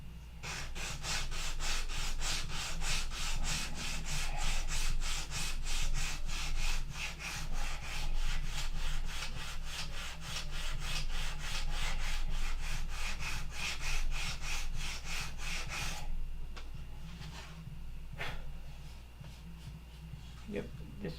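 A Gen 4 horn clip sanded by hand through 40, 80 and 180 grit paper, fast rhythmic back-and-forth scraping strokes, close and loud for about sixteen seconds, then slower scattered rubs and a few light knocks.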